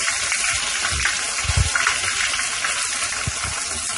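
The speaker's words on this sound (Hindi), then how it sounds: "इस तरह से धतूरे के पत्ता को जब डालेंगे तो उबाल आ जाएगा।" Datura leaves dropped into water on the boil for a home remedy, giving a steady loud bubbling hiss with a few low gurgling bursts throughout.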